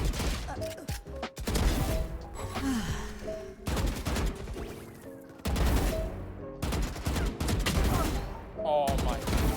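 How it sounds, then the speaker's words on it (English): Bursts of rapid gunfire in a Valorant 1v1 shootout, loud clustered volleys separated by short gaps, with faint breaths or gasps between. "So we're gonna just shoot each other"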